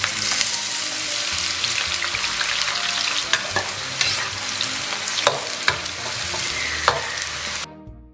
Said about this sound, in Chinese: 咱们把姜炒香以后，这个葱花蒜末给它下一大部分。